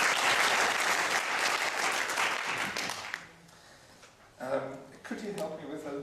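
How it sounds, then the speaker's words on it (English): An academic workshop audience gives warm applause for the conference organizer, thick clapping for about three seconds that fades out, followed by someone speaking. "Let us have a final applause for her."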